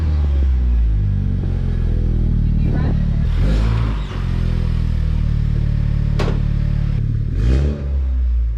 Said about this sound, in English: Oh, you do hear the turbo spool.